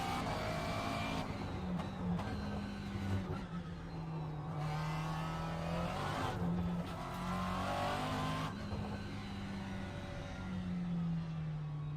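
A race car in a sim racing video game, its engine revving and shifting through gears in a continuous loud whine, pitch rising and dropping with acceleration and braking, some tire noise, no talk.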